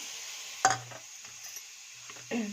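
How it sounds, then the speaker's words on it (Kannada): Dry coconut being roasted and stirred in a pan for masala, with a sharp metal clink of the spatula, soft scraping and a faint steady sizzle, close and quiet. "ನೋಡಿ ಫ್ರೆಂಡ್ಸ್, ಕೊಬ್ಬರಿ ಹುರ್ಕೊತಿದ್ದೀನಿ"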